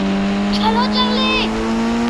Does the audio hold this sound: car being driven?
yes